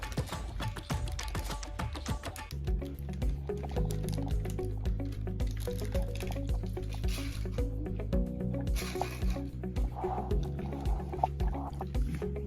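Thin kurma gravy poured over parotta gives a soft liquid trickle and splash, heard close against steady background music.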